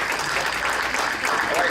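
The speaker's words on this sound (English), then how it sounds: "don't know if would a round of applause be appropriate?" Brief scattered clapping from attendees at a hospital board meeting, a soft steady patter lasting under two seconds with a murmur of voices mixed in.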